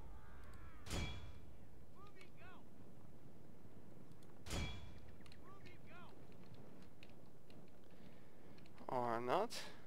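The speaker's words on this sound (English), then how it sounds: "Fire at the cavalry." Artillery fires at cavalry in Total War: Shogun 2. Two sharp, booming cannon shots land several seconds apart, each followed by a fading rumble, with faint clicks and a brief tonal game cue at the end.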